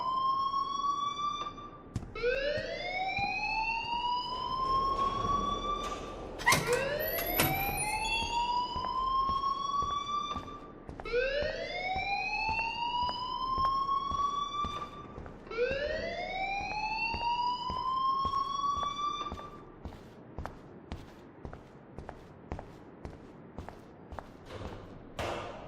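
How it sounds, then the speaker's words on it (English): Repeated rising electronic alarm whoops from the video game Life is Strange, sweeping upward roughly every four seconds for about twenty seconds, then giving way to a quiet series of footsteps. "please turn off that alarm since that's your job"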